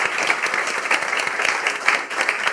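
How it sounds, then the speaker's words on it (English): An audience at the close of a panel discussion session claps in a dense, continuous burst, steady and fairly loud throughout. "We applaud you for this wonderful conversation"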